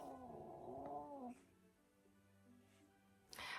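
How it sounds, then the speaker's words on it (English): A pet cat meows loudly up close, one drawn-out wavering yowl of about a second and a half, followed by quiet room noise and a brief faint sound near the end. "my cat is out of control today."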